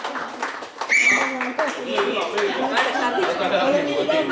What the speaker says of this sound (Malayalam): എല്ലാവരും കൈയടിച്ച് പ്രോത്സാഹിപ്പിക്കുക